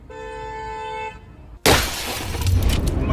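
A car window smashed during a break-in: a steady car horn tone sounds, cuts out, then a sudden loud crash of shattering glass erupts, followed by scattering debris and noisy rustling.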